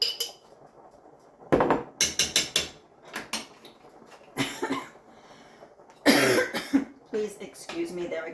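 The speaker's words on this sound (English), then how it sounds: "there I go coughing again" A person coughs repeatedly in a home kitchen while cooking, several short harsh bursts in clusters, mixed with clinks of utensils and light kitchen clatter, close and fairly loud.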